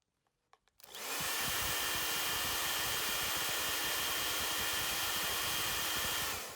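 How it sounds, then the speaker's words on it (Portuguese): Hair dryer blowing on a handmade fabric mini bag, switching on after a few light clicks and then a loud, steady whooshing hum held to the end, close and alone. "E agora a gente vai com o secador de novo, tá? Pra poder desvirar."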